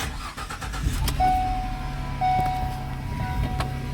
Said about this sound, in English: now my car is running